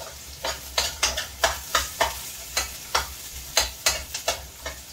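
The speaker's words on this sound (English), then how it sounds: "I'm cooking my baigan curry now and aloo." Baigan and aloo curry is stirred in a pot, a steady run of close scraping spoon strokes over a soft sizzle, with no talking.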